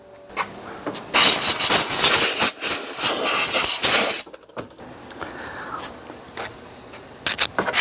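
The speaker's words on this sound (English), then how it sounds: "I am going to take some compressed air and blow out the air box." Compressed air blasts into the air box of a 1999 Club Car golf cart, a loud close hiss lasting a few seconds, followed by quieter handling clatter and short faint puffs.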